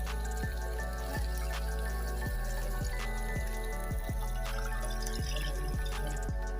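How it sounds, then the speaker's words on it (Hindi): Water goes into a pot of chicken tikka pulao, heard as a steady trickle with a regular series of drips and splashes over a low background hum. "इसमें हम डाल देंगे 4 कप पानी।"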